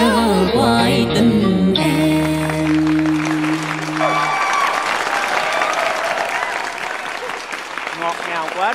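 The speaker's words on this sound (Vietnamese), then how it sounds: "Cho con xin thêm một tràng vỗ tay nữa." A crowd applauds steadily at a singing contest, the clapping starting under fading music and continuing as a dense, sustained wash of hand claps.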